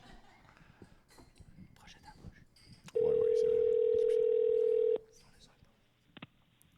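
Telephone ringing on the line during a prank call, one long steady electronic tone lasting about two seconds in the middle, with faint background speech and small noises before and after.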